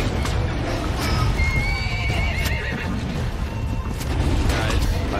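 A horse in the video game Ark: Survival Evolved neighs and whinnies over clip-clopping hooves and busy game noise, loud and close amid the action.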